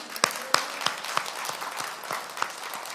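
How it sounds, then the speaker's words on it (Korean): Scattered hand claps from a church congregation during a sermon, a handful of sharp, fairly evenly spaced claps at moderate loudness with no talking over them. "박수 한번 쳐드려요"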